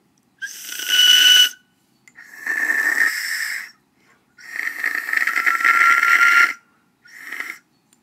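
A handmade ceramic death whistle blown in four bursts of shrill, rasping, scream-like noise, each lasting about one to two seconds with short silent gaps, loud and close.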